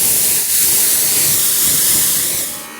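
A Greenworks Pro 2700 PSI (GPW2700) pressure washer sprays in a steady, loud, continuous hiss that holds evenly with no voices, then eases off slightly at the very end.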